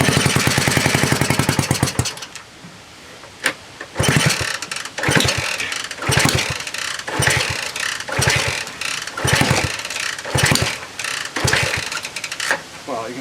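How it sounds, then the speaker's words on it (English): A 1967 Honda CL90 motorcycle engine runs with misfires. Its close, loud chugging beat is uneven, with repeated stumbles and gaps breaking the rhythm, and a brief steady run at the start. "Well, you can certainly hear misfires"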